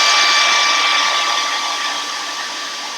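A hair dryer blows steadily and loudly up close while drying a marshmallow chalkboard craft, a continuous broadband whoosh with a faint whine that eases slightly toward the end.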